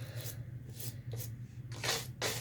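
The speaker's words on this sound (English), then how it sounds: "area that I'm scrubbing. So this is a very thick plush blanket" A thick plush blanket is scrubbed to work slime out of it. The rubbing comes in short, brisk, close bursts of soft scratching over a low background hum, with no voices.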